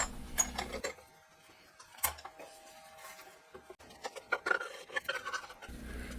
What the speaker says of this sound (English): let's go ahead and remove the clamps